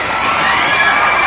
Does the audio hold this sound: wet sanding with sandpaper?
no